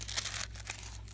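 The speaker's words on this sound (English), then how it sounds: "tissue paper" Tissue paper crinkling in short, soft rustles over about a second, close and fairly quiet, with a faint steady hum underneath.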